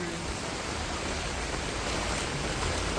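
Floodwater rushes along a road past flooded apartment buildings, a steady broadband roar of flowing water that holds unbroken and moderately loud.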